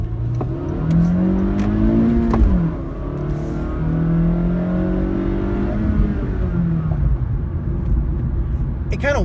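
A 2017 Honda Fit pulls away in first gear with a steady, rising engine whine and drone, close and fairly loud, easing briefly mid-run before climbing again through traffic.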